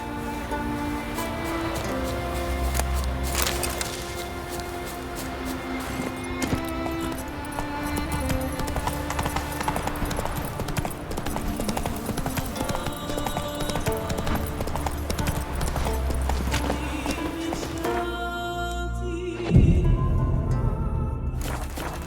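Horse galloping in The Witcher 3, a steady run of hoof clip-clops across terrain with game music and ambience underneath, continuous and fairly loud, with a brief change near the end.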